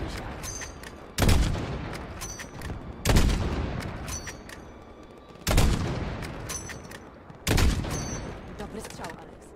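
Gunfire bursts in Call of Duty: Modern Warfare during a desert crossroads firefight, four loud volleys of shots and explosive cracks spaced a couple of seconds apart, each fading into a rumbling tail.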